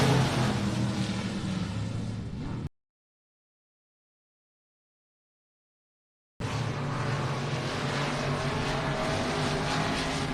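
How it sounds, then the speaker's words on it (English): IMCA Modified race cars roar around a dirt track at Texana Raceway Park, a steady loud engine drone from the field that cuts out to silence for several seconds and then returns just as strong. "we go racing here in the IMCA Modifieds"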